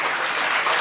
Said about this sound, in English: let's have a very big round of applause for all the three speakers first